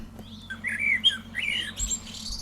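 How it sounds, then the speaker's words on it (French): Wild birds singing at the end of the day give bright, high chirps and warbling phrases in quick succession, fairly close and clear against a quiet, low background hum. "en fin de journée, les oiseaux chantent à nouveau"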